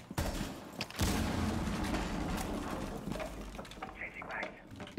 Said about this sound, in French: Oh lui, il tire sur qui? Il tire sur un mec qui est là.